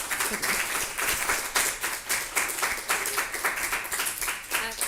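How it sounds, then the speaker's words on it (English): An audience claps steadily at a Romani feminist event, a dense, continuous patter of many hands held at an even level from start to finish, with no voices standing out. "We can clap first"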